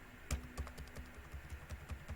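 Keys clatter on a computer keyboard while an email or name is typed into an HTML input field, a steady run of light, uneven clicks with a couple of harder strokes, close and alone at a soft level.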